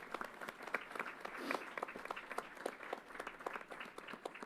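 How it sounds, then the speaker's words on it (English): Applause from a crowd at a Yankee Stadium event that served as a vaccination site, steady distant clapping that sounds faint and lasts the whole stretch. "Let's give them a big round of applause."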